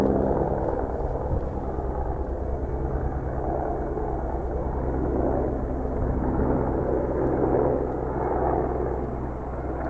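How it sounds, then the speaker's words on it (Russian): Helicopter flying over a taiga river, a loud continuous rotor and engine rumble with a steady throb filling the whole stretch, no voices over it. "Редко у нас вертолеты летают тут."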